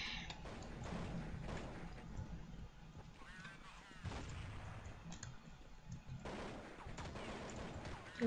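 Rapid gunfire bursts and clicking from the video game Counter-Strike, running steadily through the clip with repeated volleys, with some voice faintly under the game sounds.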